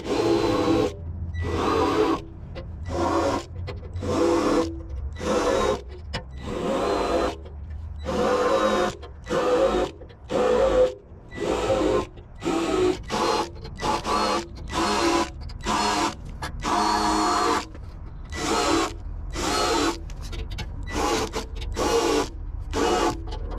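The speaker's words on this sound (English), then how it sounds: "With this drill bit, you don't have to drill it all the way through." Repeated bursts of a whirring drill biting into sheet metal on a 1992-95 Honda Civic radiator support, short on-off pulses in a steady rhythm, close and fairly loud.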